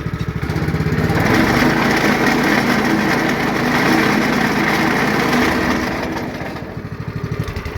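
A small lawn-care engine, just started with the choke on, revs up to a steady loud drone that holds for several seconds, then drops back toward a lumpy idle near the end.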